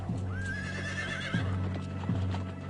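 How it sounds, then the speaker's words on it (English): Spanish cavalry horses clatter over large stones in a dry riverbed, hooves clip-clopping in uneven strikes while one horse gives a long, wavering whinny; no talk. "where the Spanish horses start to break their ankles on the huge stones"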